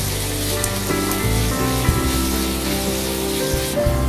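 Onion, ginger-garlic paste and green chillies frying in a pan for a soya dish, a loud, steady close sizzle with a constant crackling hiss, no talk over it.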